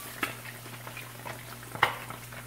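A soaked ingredient fries in a pan until golden brown, a soft steady sizzle with a low hum beneath and a couple of sharper clicks or pops standing out.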